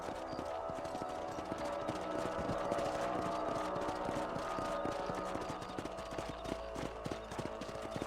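Horse hooves clip-clopping at a steady walking rhythm in the Western video game Red Dead Redemption, close and continuous over a low ambient music bed.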